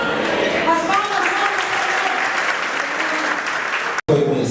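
A church congregation breaks into loud, continuous applause at an anniversary service, dense clapping that holds steady for about four seconds before a brief cut.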